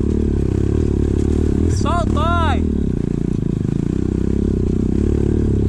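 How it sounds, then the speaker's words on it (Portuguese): A postal service motorcycle's engine runs loudly and steadily as it arrives, with whoops and exclamations from people over the din. "A moto dos correios chegou."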